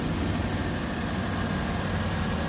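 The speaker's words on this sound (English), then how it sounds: "The motor sounds great." A 2013 Chevy Tahoe police package with a flex-fuel Vortec engine idles steadily, a continuous low rumble with a broadband hiss layered on top, holding constant loudness throughout and heard alone with no voices.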